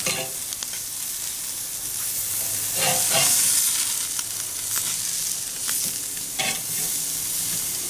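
Smoked sous vide tri tip sears on a hot grill after being flipped, giving a loud, constant close sizzle with a few brief scraping bursts and no talking.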